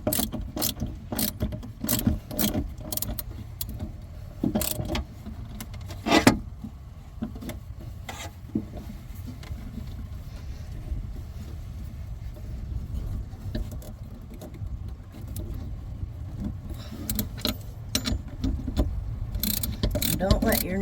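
A ratchet wrench tightens 17 millimeter nuts on a battery shunt in a camper van, giving quick bursts of light clicking and ratcheting over a low background rumble.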